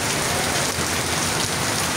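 Heavy typhoon rain pours down steadily and loudly, a dense continuous hiss of drops striking surfaces close by, with no talk over it.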